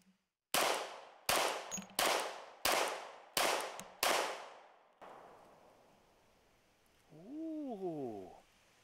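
Six sharp, loud gunshots from a USP 10mm pistol fired in quick succession with short ringing decays, followed by quieter outdoor ambience and a brief rising-falling whine.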